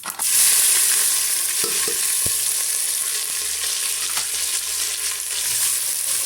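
Crushed shallots, garlic and curry leaves sputter in hot oil, a bright constant sizzle up close with occasional stirring taps and scrapes of the spoon against the pan.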